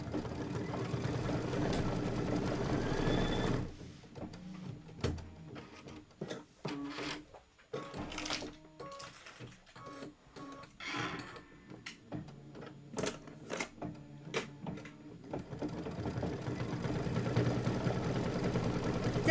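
An embroidery machine stitches a Kimberbell quilt filler block, giving off rapid mechanical clattering in uneven bursts and pauses. Louder, steadier whirring frames the start and end.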